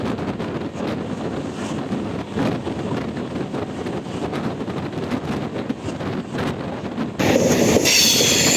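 The Tambaram–Rameswaram Express passenger train runs with a steady rumble and rattle of the railcars, mixed with wind buffeting, and grows louder and brighter near the end.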